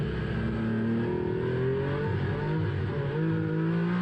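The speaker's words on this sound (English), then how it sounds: "Listen to the throttle input out of this final corner." GT race car on track at Jerez accelerating out of the final corner, a sustained engine note rising and wavering with throttle changes, loud and continuous with no talk.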